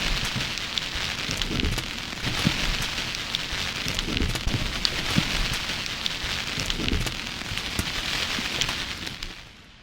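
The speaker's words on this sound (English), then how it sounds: "you get the tape noise there as well" Steady hiss of tape noise from the Naroth Audio Mood Guitars plugin, a dense crackling wash that holds evenly throughout before fading out at the very end.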